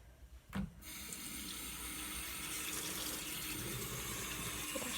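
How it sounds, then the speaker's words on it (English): A bathroom sink faucet is turned on for hand washing: a brief clunk, then a steady hiss of running water that continues evenly, quiet and close. "Wash my hands first."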